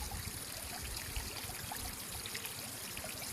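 Water trickles and splashes steadily at a faint level, an even outdoor flow with no voices.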